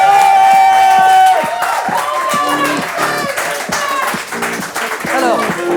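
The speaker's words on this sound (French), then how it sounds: "un tonnerre d'applaudissements pour eux, s'il vous plaît." Studio audience applause and cheers greet two guests on the first episode of a French live show, heard under bright music with a steady crowd wash and scattered claps.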